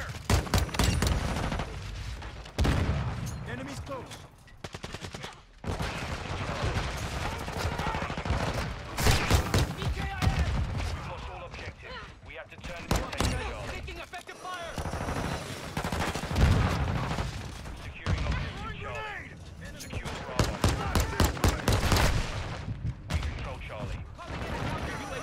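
Video game gunfire in a John Wick–style shootout, with repeated rapid bursts and single shots crackling through most of the stretch, while a player talks excitedly over the shooting.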